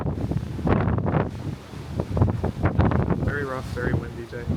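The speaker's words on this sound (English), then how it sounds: "Very rough, very windy day." Strong wind buffets the microphone out on the open deck of a cruise ship riding rough seas, a loud, steady roar with gusts, while people talk close by over it.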